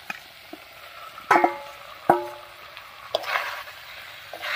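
Ash gourd is stirred into chicken curry frying in a pan, with a soft sizzle underneath and several sharp clanks and scrapes of the spatula against the pot, heard up close.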